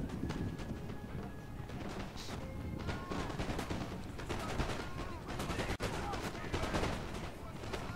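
Musket volleys and scattered gunfire from a Napoleonic battle in the strategy game Napoleon: Total War, a dense, continuous crackle of shots over battlefield noise with some indistinct voices.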